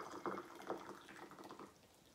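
Hot water is poured for a mango jelly, splashing faintly with a few louder gurgles early on, then trickling off, with no voices.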